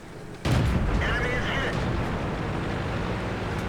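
The cannon of a T21 tank in a tank video game fires one loud, close boom that decays into a long rumbling tail with engine noise.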